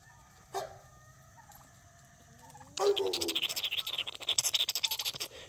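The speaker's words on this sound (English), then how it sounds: "Here goes that guinea chicken hybrid. Half guinea, half chicken." A guinea fowl and chicken hybrid on a homestead gives a brief call, then a rapid run of loud, close, rhythmic squawking clucks over faint background bird calls.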